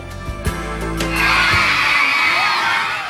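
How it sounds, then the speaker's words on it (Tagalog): Crowd of elementary school pupils at a school in North Cotabato shouting and cheering in welcome. A few thumps come first, then a loud, sustained burst of high children's voices swells up and fills the rest. "Hiyawan ang sumalubong sa amin mula sa mga batang mag-aaral sa 4th Pickett Elementary School dito sa North Cotabato."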